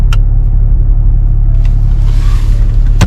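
Snow-plough truck clearing snow on a street in Finland, a continuous deep engine rumble with occasional scraping and clanking bursts as it drives past.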